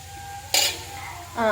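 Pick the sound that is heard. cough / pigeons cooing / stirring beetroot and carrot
stirring beetroot and carrot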